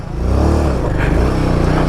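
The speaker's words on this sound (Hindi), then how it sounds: "नदी क्रॉस कर रही है हमारी हिमालयन, आराम आराम से लेके निकल जाएंगे।" A Royal Enfield Himalayan adventure motorcycle engine rumbles loud and close as the bike crosses a river, with steady low-pitched throbbing throughout.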